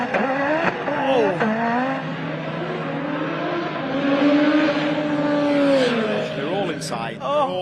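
A 1970s Holden Torana race car drives a circuit at a time attack motorsport event, its engine revving and shifting loudly, with the pitch rising and falling and a brief tire squeal. Commentators talk excitedly over it.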